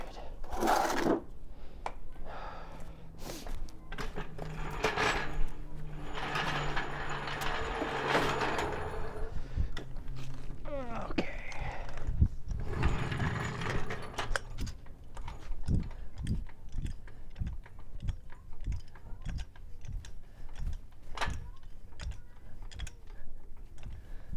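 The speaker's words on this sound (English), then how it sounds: "So first thing I got to do is take off the wheel." Hand tools at work taking a wheel off a worn-out vehicle: a run of clicking, ratcheting and metallic clanks, with a denser mechanical stretch in the middle and steady repeated ticks toward the end, close and moderately loud.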